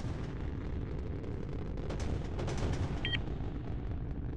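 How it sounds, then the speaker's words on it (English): Gunfire aimed at a ship in a space battle game, rapid booming shots and explosive bursts rolling together in a dense, continuous barrage. "They're shooting at us."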